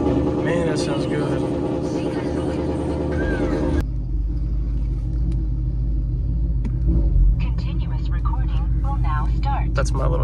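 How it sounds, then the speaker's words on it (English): A Shelby GT500 with a Corsa Extreme exhaust idles with a deep, steady low rumble close by. A brief higher sound comes before it settles, and a voice talks over the idle. "we're just gonna let this sit here, idle up for a little bit, and we'll get on the road."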